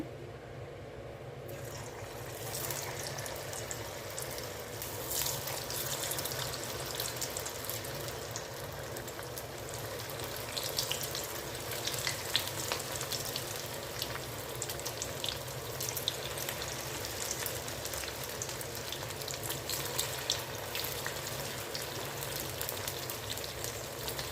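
Steady, crackling sizzle of wheat and sago pakoda batter deep frying in hot oil, continuous and fairly loud throughout with no talking.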